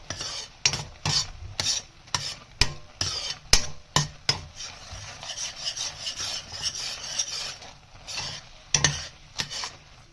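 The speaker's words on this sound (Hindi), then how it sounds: "हमें इस तरीके से चम्मच घुमाते रहना है क्योंकि नीचे से लगना नहीं चाहिए" A spoon keeps scraping and stirring thickening khoa in a pan for gajar ka halwa, giving a dense run of close, rhythmic rasping strokes over a low sizzle, with no voices.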